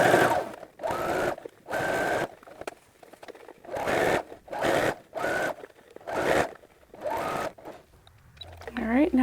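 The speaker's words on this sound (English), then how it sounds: "making sure that it's staying out of the way of the sewing machine, and then slowly sewing on" A sewing machine stitches fabric around an armhole in bursts of steady whirring, stopping and starting about eight times with short pauses between runs, close and clear, and a brief voice comes in at the very end.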